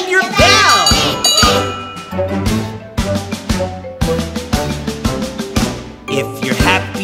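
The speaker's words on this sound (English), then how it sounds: "If you're happy and you know it, ring your bell." Bright metallic bell dings ring out repeatedly over a cheerful children's nursery-rhyme song, struck in quick rhythmic bursts that chime alongside the music's beat, loud and up front.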